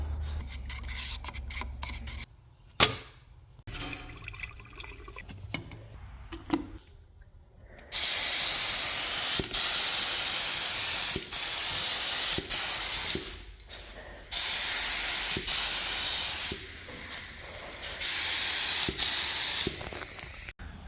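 An aerosol can sprays smoke grey paint onto a Ford 9-inch rear axle for a 1946 Chevy truck build, hissing in several long close bursts with short pauses and some handling noises before the spraying starts.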